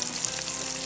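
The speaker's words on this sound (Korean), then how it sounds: "그러니까 버터에 마늘을 굽고 있는 거예요." Garlic frying in butter over moderate heat, a steady close sizzle with fine crackling throughout and no voices.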